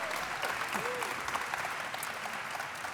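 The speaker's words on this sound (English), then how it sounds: "give a warm applause to the people from NASA and Felix and Paul" An audience applauds at a filming-in-microgravity session for NASA and Felix and Paul, with dense, steady clapping filling the room and a faint voice underneath.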